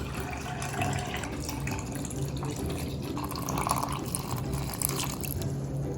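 Iced coffee, brewed cold or instant, being poured into a glass in a home kitchen: a close, continuous trickling and splashing liquid stream with small uneven gurgles, no voices over it.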